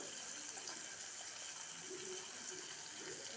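Capsicum frying in oil while cooking a tomato capsicum curry, a steady, even hiss and sizzle that runs without a break, fairly soft and close, with no voices.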